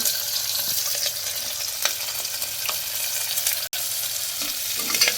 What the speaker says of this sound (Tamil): ஜீரகம் கடுகு ஜீரகம் பொரியுது